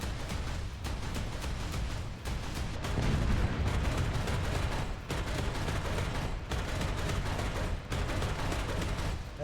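Leopard 40/70 anti-aircraft gun in War Thunder firing in sustained rapid bursts, a dense continuous barrage of booming shots with brief pauses between strings of fire.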